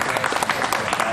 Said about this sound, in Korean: 미리 기다리던 강훈식 비서실장 일행은 안도의 박수로 맞이했습니다